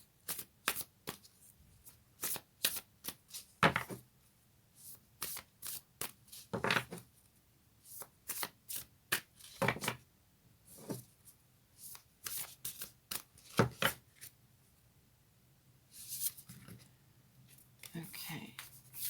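Moonology oracle cards being shuffled by hand, a run of crisp riffling bursts and soft slaps repeating irregularly, close and fairly loud, with brief pauses between shuffles.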